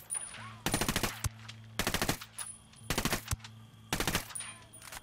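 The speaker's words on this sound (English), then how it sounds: "Opening fire on these fuckers." Automatic gunfire in the video game Ghost Recon, four separate sharp bursts of rapid shots at a steady rhythm, loud against a quiet background hum.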